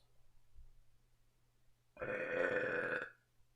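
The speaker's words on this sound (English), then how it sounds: "I burped." A single long, loud burp from a person rises suddenly out of near silence, lasts about a second, then stops.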